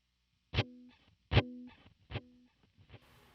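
Guitar played through a pedalboard preset set to fully wet delay: three sharp plucked notes spaced under a second apart, each with a short decaying tail, then quieter echo repeats fading out.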